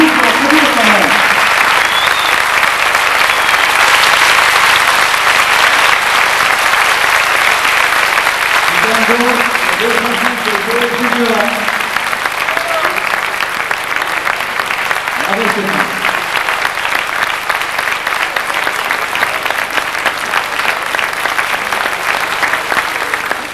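Loud, sustained applause from a live studio audience fills the entire stretch, a dense steady wash of clapping with a few voices and cheers rising over it now and then.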